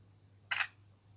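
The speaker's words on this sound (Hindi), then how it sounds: "फ्रंट पर एक पिक्चर में क्लिक कर लेता हूँ" A single short camera shutter click from a Realme 12 phone taking a front-camera photo, crisp and brief against a faint low hum, with no talk.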